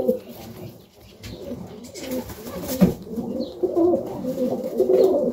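Pigeons coo softly in low, murmuring tones, close by, with rustling and muffled noise around them, in a pigeon loft on a cold Melbourne morning.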